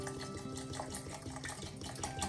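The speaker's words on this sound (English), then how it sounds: "next I will just pour in some water into the sea moss" Water pours steadily into a jar of sea moss, a continuous splashing, gurgling stream heard close up and moderately loud with no talk.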